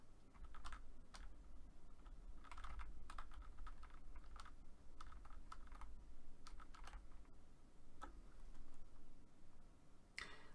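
Soft keystrokes as a password is typed on a computer keyboard, scattered clicks in short bursts over a low steady hum, fairly quiet.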